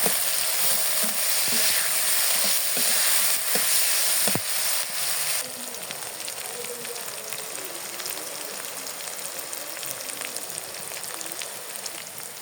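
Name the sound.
onions frying in a pan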